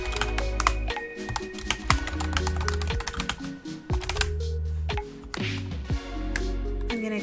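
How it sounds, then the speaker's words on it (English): Computer keyboard clatters with rapid, irregular key clicks and occasional heavier taps in bursts, close and clear, alone without talk. "if you can hear me clicking away on my keyboard"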